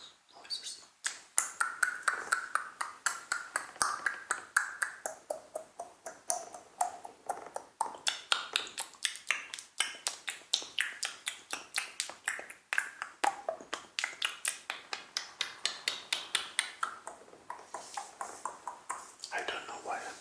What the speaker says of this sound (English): Maybe I should first like clean my mouth a little bit with mouth noises